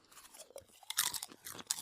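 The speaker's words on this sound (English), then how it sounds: "Crunchy snack." A crunchy snack is chewed close by, giving a quick, irregular run of crisp, loud crunches and bites with no talking.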